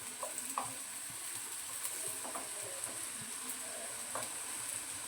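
Alu vadi, rolled colocasia-leaf slices, frying in a pan of hot oil: a steady, close sizzle with scattered small pops and occasional soft turning sounds.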